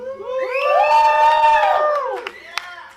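A room crowd at a hacker conference talk on the demoscene cheers and whoops loudly for the demo Desert Dream, a sustained swell of shouting voices lasting a few seconds, with a sharp clap or two near the end.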